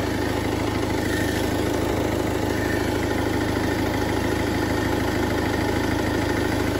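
A Ford Focus engine idles steadily just after starting, following a blown F36 engine-management fuse and signal-interference cranking trouble, giving a loud, continuous, even mechanical hum close to the microphone with no voices.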